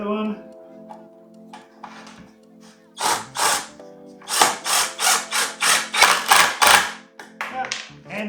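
A power screwdriver drives a screw into a wooden table in several short, loud bursts, the last run a rapid series of closely spaced pulses, with a voice talking quietly before and between them.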